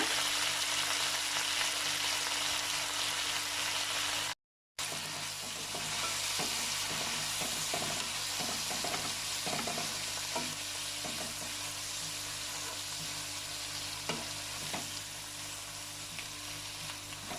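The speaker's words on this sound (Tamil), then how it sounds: "இலைகளை சேர்த்துடலாம். நல்லா வணக்கிக்கலாங்க." Mint leaves sauté in a pan with golden-browned ingredients for pudina rice, giving a steady close sizzle with scattered stirring scrapes and clinks through the whole stretch, broken by one brief dropout.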